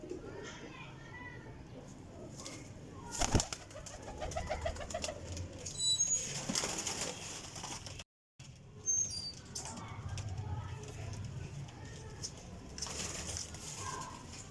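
A Teddy pigeon among high-quality flying pigeons gives low coos and occasional bursts of wing flapping up close. Muffled voices sit in the background, with a brief dropout midway.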